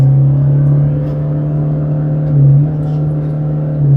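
Toyota bZ4X AWD electric car accelerating hard on a straight road, a steady low hum and whir from inside the cabin, holding a constant tone with a slight swell near the middle.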